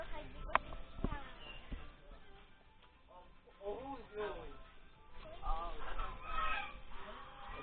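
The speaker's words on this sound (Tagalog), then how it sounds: "Oh, these are geese." Geese honk intermittently at close range at an animal sanctuary in Tagaytay Highland, scattered harsh calls over a quiet outdoor background with people talking nearby.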